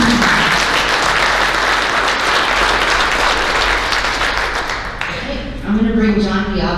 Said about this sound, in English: Let's give our board of directors an applause one more time.